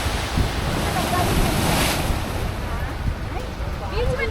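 Ocean waves at the seashore at Dhanushkodi near Rameshwaram, a continuous wash of surf mixed with heavy wind buffeting, with people talking faintly in the background.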